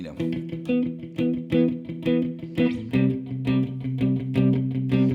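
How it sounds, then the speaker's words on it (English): Chugging, heavily distorted electric guitar with tight palm-muted chords in a steady rhythm, loud and close, shifting to lower chords midway. "You just put a lot of distortion on, palm muting"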